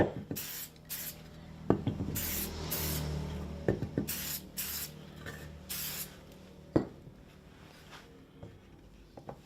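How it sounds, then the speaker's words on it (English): Mould release spray is applied to a frame in repeated short hissing bursts, each lasting roughly half a second to a second, with a few clacks and handling knocks in between. "We've sprayed it all with the mould release spray"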